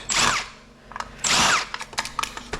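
A power tool, likely an impact driver or drill, whirs in two loud bursts while backing out bolts from an aluminum extrusion on salvaged electronics, followed by lighter clicks and clinks of parts.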